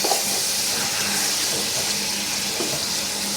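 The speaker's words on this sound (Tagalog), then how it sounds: "Guys, unahin muna natin itong pork. Papulahin natin to guys sa oil." Pork browning in hot oil in a pan, a steady broad sizzling hiss that fills the whole stretch without a break, loud and close.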